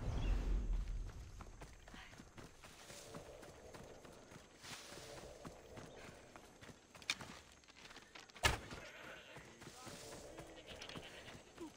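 Faint rhythmic video game horse hoofbeats clip-clop along at a walking pace under quiet talk, with a couple of sharper knocks partway through.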